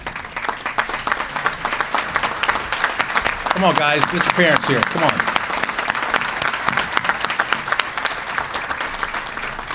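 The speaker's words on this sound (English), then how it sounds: "I want to ask all the parents of these guys to stand up and be recognized and get a round of applause." Crowd applause for parents at a scholar-athlete luncheon, a loud, sustained rattle of many hands clapping close by, with someone speaking briefly over it midway.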